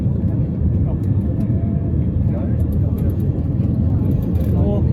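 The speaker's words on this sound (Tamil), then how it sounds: "ஃப்ளைட்டு வந்து மேலே அசண்டிங்கில் இருக்குது." Airplane engines roar as the flight climbs after takeoff on the way to Hanoi, Vietnam, a steady loud broadband drone filling the cabin throughout.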